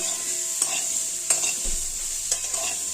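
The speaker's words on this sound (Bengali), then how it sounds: "দেখো বন্ধুরা, আলু বেগুনটা এইরকম হালকা হালকা ভাজা হয়েছে" Potato and eggplant pieces fry lightly in a pan with a constant close sizzle, while a few sharp scrapes and taps of a stirring utensil land at irregular intervals.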